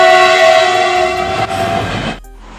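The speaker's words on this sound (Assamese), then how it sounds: "আমাৰ ঘৰটো একেবাৰে ৰেল লাইনৰ কাষতে, সেইকাৰণে এনেই ট্ৰেইন চেইন গ'লে আৰু একেবাৰে মাতটো বহুত ডাঙৰকৈ হয়" A train passes on a railway line right beside a house, loud and close, with a sustained horn blast over rumbling wheels before the sound cuts off abruptly.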